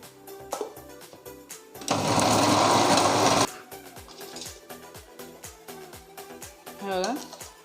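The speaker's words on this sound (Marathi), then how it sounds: "सर्वात आधी आपल्याला हे ज्या मिरच्या आहेत, शंकेश्वरी मिरच्या, त्या आपल्याला वाटून घ्यायच्या आहेत." A mixer grinder pulverises Shankeshwari chillies in one loud steady whir of about a second and a half, with kitchen clatter and a voice talking around it.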